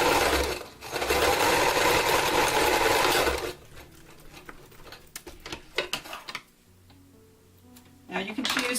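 A sewing machine zigzag stitching sock material runs in a loud continuous burst for about three seconds, then gives way to quieter clicks and handling noises and a short final burst.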